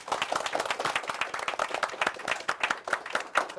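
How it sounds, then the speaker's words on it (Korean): Lively applause from a seminar audience for the event's MCs, a close, dense patter of individual claps with a fluttering rhythm that holds steady throughout, no talking. "여러분들 수고해주신 MC분들한테 박수 부탁드립니다."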